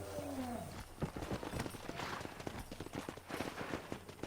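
Horse hooves clip-clopping in the Western video game Red Dead Redemption on Xbox One, a quiet, irregular run of hoof knocks amid faint game ambience, with brief snaps and a bird-like call early on.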